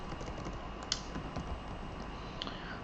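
Light clicks of typing on a computer keyboard at a desk, a few soft keystrokes spread sparsely over a steady low room hum.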